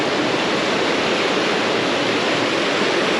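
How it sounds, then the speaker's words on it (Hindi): Kali and Gauri Ganga rivers rushing below the India-Nepal border bridge near their confluence, a loud, steady roar of turbulent water filling the whole stretch with no break and no voices. "ये नदी ऊपर धारचूला की तरफ से आ रही है, काली नदी और गौरी गंगा।"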